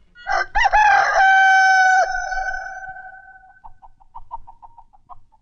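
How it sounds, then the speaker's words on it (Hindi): A rooster crows at midnight, one loud, close, drawn-out cock-a-doodle-doo that trails off into a series of short fading notes, with no voices. "आधी रात को मुर्गा कैसे बांग दे रहा है?"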